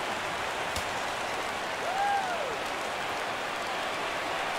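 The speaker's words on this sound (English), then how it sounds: "Crowd gets up for the 3-2." Broadband crowd murmur at a ballpark in MLB The Show 17 during a full-count pitch, a steady roar with a brief tone sweeping across it, no talk over it.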